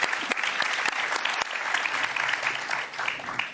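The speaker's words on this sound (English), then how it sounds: "let's give our panel a warm applause." Warm applause from an audience after a panel discussion, dense continuous clapping with a few sharp louder claps standing out, sustained throughout.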